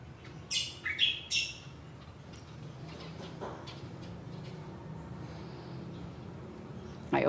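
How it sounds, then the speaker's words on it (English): A few birds give sharp squawking calls as they fly past outdoors, a burst of several cries early on and one more near the end, over a steady background hum. "now birds are passing us"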